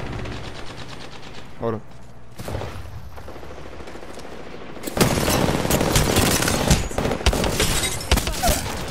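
Rapid video game gunfire in a scrim match, quieter and scattered at first, then a dense, loud, sustained barrage during the second half, with a player's voice speaking briefly over it.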